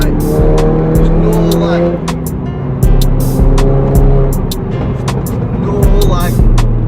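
An Audi S1 Quattro with four-wheel drive, 400 bhp and a stage 3 bigger turbo revs hard while driving. The loud engine pulls up and down through gears with sharp pops and clicks, and a voice talks over it.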